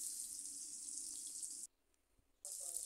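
Fish pieces sizzling as they are laid into hot oil in a pan, a steady bright hiss that cuts out briefly near the middle and then resumes just as loud.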